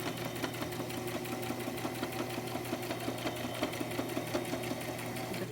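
Sewing machine stitching cotton fabric for face masks, a steady rapid mechanical chatter running evenly throughout, quiet and alone.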